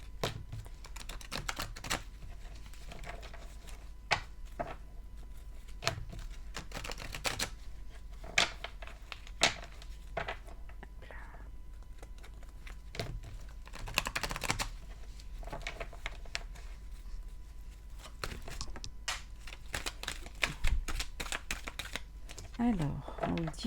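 Tarot cards are shuffled close by in a steady stream of soft riffling and clicking that runs throughout, with a voice speaking quietly at times.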